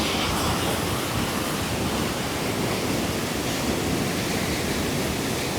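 Strong river current where salmon swim upstream, a loud, dense and continuous rushing of water that fills the whole stretch, with no talking.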